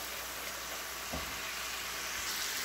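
Potatoes tossed with garlic, chilli, sauce and fresh coriander cook in a hot pan, giving a steady, close sizzle with a brief soft knock of stirring partway through; no voices.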